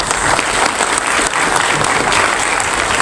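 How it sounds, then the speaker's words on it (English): A dense, steady round of applause from a large audience at a university function honoring top students, sustained and loud for the whole stretch with no voices over it. "all of you need to give a round of applause to the university"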